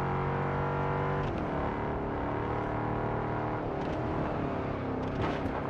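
Steady, continuous engine drone of a car driven in the racing game Test Drive Unlimited Solar Crown, with shifting revs and no talking.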